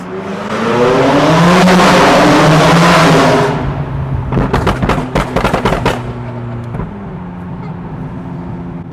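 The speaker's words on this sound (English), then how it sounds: "a supercar rally with 30 other supercars who are all owned by business owners and entrepreneurs" Supercars in a rally on a closed highway, with a loud roaring engine surging past up close, then a rapid burst of sharp revving pops and crackles, and a lower engine drone trailing off.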